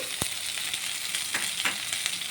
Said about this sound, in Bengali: তেলেতে অল্প কালো জিরে দিয়ে দিলাম কালো জিরেটা ভাজা হয়ে গেছে এবারে ওই বাটাটা দিয়ে দিলাম